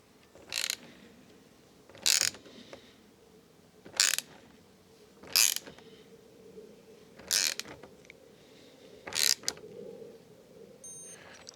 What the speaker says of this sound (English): Okay, so now I can tighten that bolt.